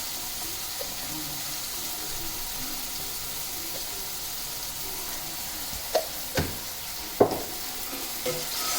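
Radish fry stirred in a pan with turmeric and salt, giving a steady background sizzle with a few sharp scrapes and knocks of the spoon near the end.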